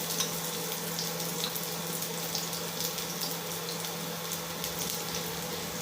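Chopped garlic fries in hot oil, giving a continuous dense hiss of sizzling that holds steady and close throughout.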